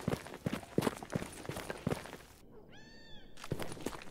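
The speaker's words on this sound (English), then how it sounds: "Gordon, I heard some cats" A cat meows once in the Stalker GAMMA game, a short rising-and-falling call heard alone in a brief gap. Rhythmic footsteps and other game noise fill the moments before and after it.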